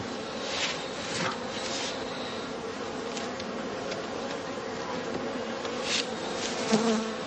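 Honey bees buzzing steadily around a straw skep hive on heathland, a dense continuous drone of many insects close by, with single bees swelling louder as they pass.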